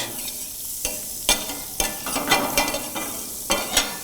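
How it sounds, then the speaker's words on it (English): Butter sizzles in a hot pan, with sharp clinks and scrapes of a utensil stirring at irregular intervals, close by and fairly loud, while making chicken stroganoff. "now you can see the butter starts sizzling"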